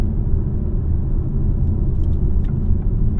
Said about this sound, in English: you do hear a lot of road noise with these tires and wheels